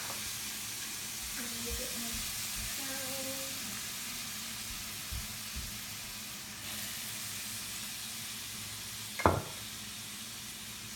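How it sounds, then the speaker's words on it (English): Onions, bell peppers, corn kernels and thyme in butter and olive oil give off a steady, soft sizzling hiss in a saucepan, with faint stirring clatters and one louder clink near the end. "put my onions, bell peppers, and corn kernels, and also the thyme into my saucepan, which is sizzling right now"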